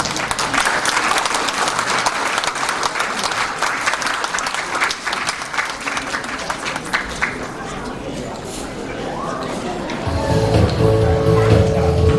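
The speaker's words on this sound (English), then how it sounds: "Let us give them a big round of applause." An audience at a Zo cultural show in Melbourne claps for a youth group's cultural dance, loud sustained applause that thins out near the end as a steady tone and lower sounds take over.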